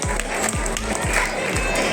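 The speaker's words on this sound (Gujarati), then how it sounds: "તો આ તાળીઓનો ગડગડાટ શરૂ રાખીશું" Steady applause from an audience at a tuition group's Rangotsav competition event, a dense wash of clapping that holds evenly throughout, with a low rhythmic thump pulsing underneath.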